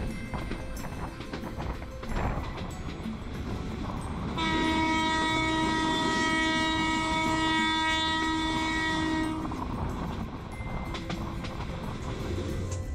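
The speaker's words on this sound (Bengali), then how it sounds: "এখন ট্রেন ছুটে চলেছে চা বাগানের মাঝখান দিয়ে।" Jayantika Express passenger train running through tea gardens between Sylhet and Sreemangal, its rumble and clatter steady throughout, with a loud, sustained horn blast sounding for several seconds in the middle.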